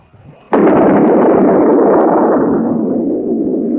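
An atomic bomb detonation on an old 1950s USAF film soundtrack, heard as a sudden loud blast that turns into a sustained, roaring rumble and holds for several seconds with no voices.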